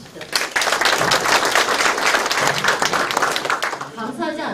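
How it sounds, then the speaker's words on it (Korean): An audience at a community meeting with the city mayor bursts into sustained, dense applause that rises quickly and holds steady, then tapers as a voice begins speaking over the last moments. "한번 박수 한번 주시죠"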